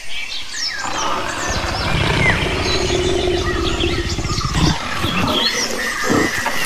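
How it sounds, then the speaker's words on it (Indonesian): A leopard gives a low, rasping growl-roar in steady rough pulses for several seconds, with birds chirping and calling in the background. "ini namanya hewan macan tutul"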